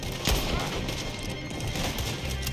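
Rapid gunfire in Red Dead Redemption 2, a dense run of loud overlapping shots and booming cracks during a chase, with no pause across the stretch.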